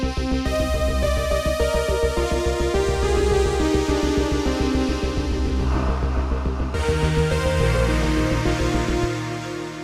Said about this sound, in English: we're going to be making a cinematic synthwave lead in Pigments